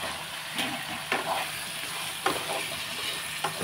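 Raw prawns and drumstick pieces cook in a pan, giving a soft, low sizzle with a few brief stirring clatters spaced through, faint and close.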